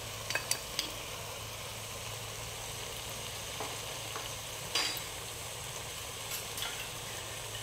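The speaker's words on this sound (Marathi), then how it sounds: "यामध्येच मी लगेच मिरची पावडरही टाकत आहे" Spices, chili powder and biryani masala, dropped into hot oil for chicken khichdi give a faint, steady sizzle with an occasional soft clink of stirring, no voices.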